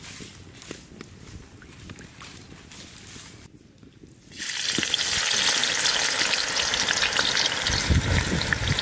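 Onions frying in sunflower oil in a wok over a village cooking fire: a quieter stretch of rustling, then a sudden loud, steady, close frying hiss that carries on to the end.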